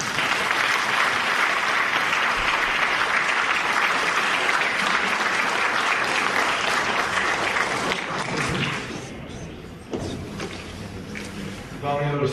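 Applause from the audience at a university research excellence gala in Craiova, a loud sustained wash of clapping that thins and fades toward the end, giving way to quieter sounds and a voice.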